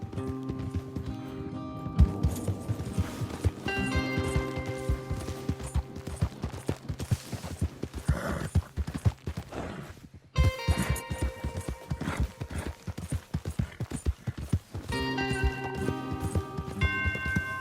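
Horses gallop with rapid, rhythmic hoof clip-clops in the Red Dead Redemption 2 video game, running steadily under a layer of music and ambient sound, with a brief break partway through before the hoofbeats resume.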